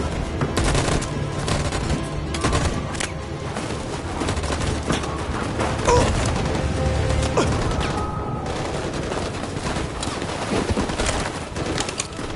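Sustained gunfire in the game Detroit: Become Human, dense rapid automatic bursts rattling continuously and loudly over a busy battle background, with faint bird-like cooing mixed in.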